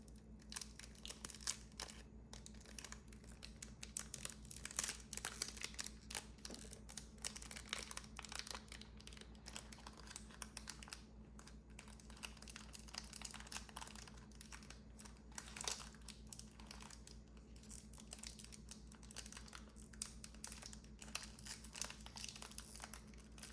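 Soft crinkling and rustling of plastic packaging on an acrylic stamp block, with scattered crackles and small snaps over a faint steady hum; no talking.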